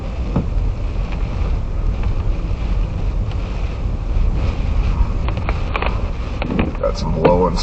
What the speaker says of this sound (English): Got some blowing snow going on here.